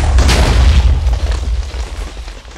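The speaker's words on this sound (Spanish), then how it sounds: "Y con el otro lo hace una explosión." A loud, deep video game explosion from an item in the Minecraft Mutant Creatures mod, a single booming blast with a low rumbling tail that fades over a couple of seconds.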